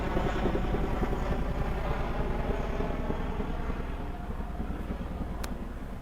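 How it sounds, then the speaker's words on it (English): A Chinook helicopter flies overhead with a loud, steady rotor thump that holds at close range and then slowly fades a little as it moves away. "Oh look, a Chinook."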